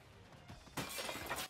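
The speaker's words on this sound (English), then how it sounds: "Oh no, I broke the glass." Glass shatters in the Moving Out video game, a sudden bright crash partway through that scatters into a short burst of breaking fragments after a quiet lead-in.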